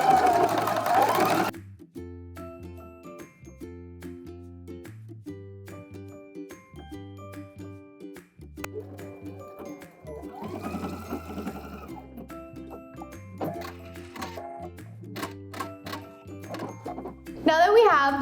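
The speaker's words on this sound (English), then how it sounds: "I'm going to be sewing, looks like 5/8 of an inch seam allowance on this." A sewing machine stitches a 5/8-inch seam along a pants waistband, running in steady rhythmic bursts of mechanical whirring with short pauses, near and clear while a person talks over it.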